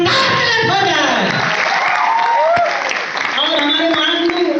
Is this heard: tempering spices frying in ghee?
no